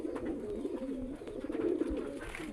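A pigeon coos softly and repeatedly in low, throaty rolling notes, fairly close, with no other sounds.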